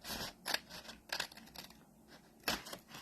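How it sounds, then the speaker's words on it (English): Scissors snip through a paper strip from a treat box, giving several crisp, close cuts in an uneven rhythm with brief pauses and faint paper handling between them. "With the first cut I have to do with my scissors"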